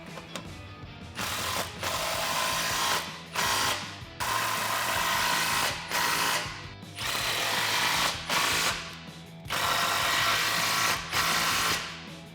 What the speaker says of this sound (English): once the adapter section and the resonator section is lined up in this clamp, tighten these down.